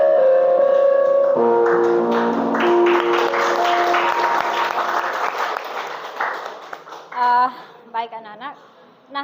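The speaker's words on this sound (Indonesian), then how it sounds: "Kasih tepuk tangan untuk kita semua" Schoolchildren applaud in a classroom, a broad wash of clapping laid under sustained tones; it thins out and a voice speaks in short bursts toward the end.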